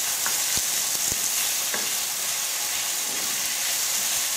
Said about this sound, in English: give that a really good stir. So the oil goes all the way around.